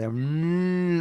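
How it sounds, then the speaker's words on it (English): A single cow moos in a long, steady, low call that holds its pitch for about a second, close and loud. "you can hear the cows mooing outside"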